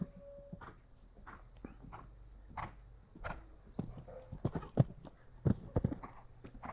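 Horse hooves thud and clip-clop on the ground in an irregular rhythm during a jumping exercise with turns to a fence, moderately close, with faint background noise between strides.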